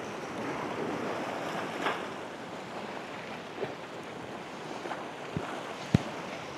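Sea waves wash over rocks on Mundywari Beach on the Balochistan coast, a continuous broad surf rush with wind noise and a few faint splashes and clicks, no talk.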